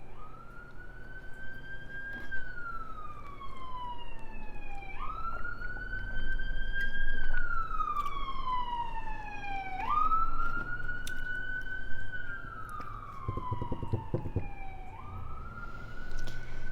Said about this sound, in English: And I apologize for the sirens.